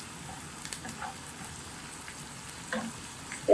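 Garlic and ginger frying in a pan, a continuous soft sizzle with faint crackles and occasional light stirring, close and steady with no talking.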